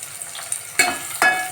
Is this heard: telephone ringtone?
no